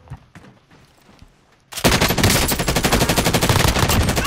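Loud, sustained automatic gunfire from a firefight in Modern Warfare's Rebirth Island battle royale breaks in abruptly after a quiet stretch with faint distant shots, then rattles on as rapid, dense bursts close by.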